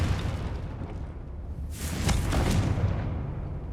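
A single Confringo blasting spell from Hogwarts Legacy bursts into a loud, rumbling explosion over low game ambience, swelling and then fading slowly.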